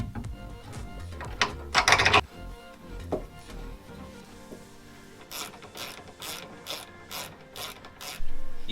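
A ratchet tightens a coilover bolt on a Mazda MX5's rear suspension, with clicking strokes that come as quick bursts, then a run of evenly spaced clicks near the end, all close and fairly quiet.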